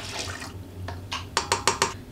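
Water poured from a container into a KitchenAid stand mixer bowl for pita bread dough, a soft trickle followed by a few quick, sharp splashes and clinks close by.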